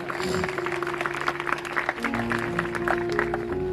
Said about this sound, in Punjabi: ਲਾਓ ਫਿਰ ਜ਼ੋਰਦਾਰ ਤਾੜੀ